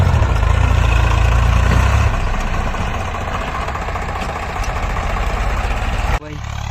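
A Swaraj 735 tractor, just finished rotavator work in a muddy field, idles with a steady, loud, low engine rumble close by, easing slightly in pitch before a brief shift near the end.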